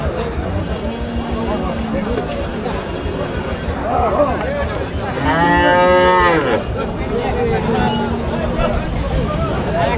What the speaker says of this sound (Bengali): এ পাশে অনেকগুলি ষাঁড় গরু রয়েছে